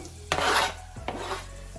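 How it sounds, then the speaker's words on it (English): Onions go into a pot with whole cloves, cinnamon stick and tamarind, giving two short scraping, clattering stirs of a utensil against the pot, close and moderately quiet, with no voices. "Now I'm going to add onions."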